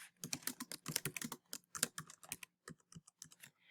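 Rapid, uneven keystrokes on a computer keyboard while entering Word Art text in a Google Drawing, a close, busy burst of clicks that thins to scattered taps near the end.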